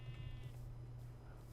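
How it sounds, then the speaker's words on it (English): A Minecraft sheep gives a short bleat at the start, fairly faint, over a steady low background hum. "Oh, no, that's sheep."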